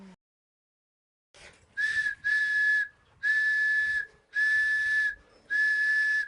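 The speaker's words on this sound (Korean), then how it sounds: "굵기와 길이, 재료에 따라 다양한 소리가 나는 호루라기 정말 신기하죠?" A shrill whistle blown in five sustained blasts, each about a second long with short gaps, loud and close, following a brief rustle.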